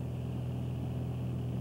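A small airplane's engine hums in a steady, dense drone heard from inside the cabin in flight, with no voices.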